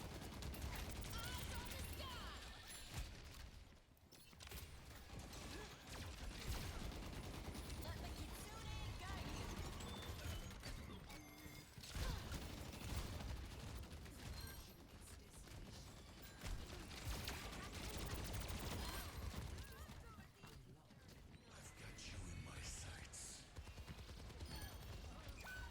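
Overwatch weapon fire rattles almost without a break in dense, rapid bursts, quiet overall and mixed with faint voices.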